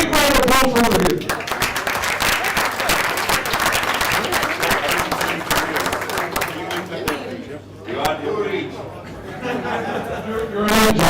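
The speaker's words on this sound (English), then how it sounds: "Big round of applause for all of you." Sustained audience applause and clapping at the finals of a Bucharest open tournament, loud and continuous across the whole stretch, with crowd chatter mixed in beneath it.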